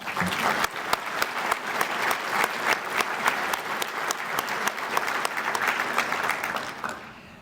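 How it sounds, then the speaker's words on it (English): Audience applause at a Bay Area Chamber of Commerce community luncheon, a dense steady roar of many hands clapping that holds loud throughout and tapers off briefly at the very end. "Let's give them another round of applause"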